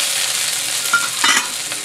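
Shallot, green onion, red chili and Spanish onion sizzle in oil over medium-high heat, a bright steady hiss with a couple of brief stirring scrapes, no talking.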